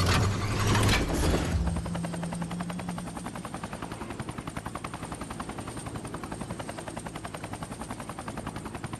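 Choppa helicopter glider from the game Fortnite, with a loud whooshing burst at the start, then a steady rapid rotor chop with side-mounted guns, continuing throughout with no talk.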